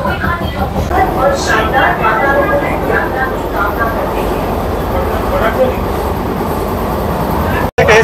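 Inside the Sealdah–Ranaghat AC local train on its inaugural run as it pulls away and passes Barrackpore without stopping: a loud, continuous rumble of wheels and carriage noise, with voices speaking over it.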